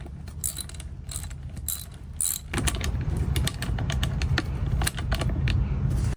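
A ratchet wrench tightens bolts on the brake assembly of a Honda Navi, rapid steady clicking of the pawl over a constant mechanical rumble, close and loud, with no talking.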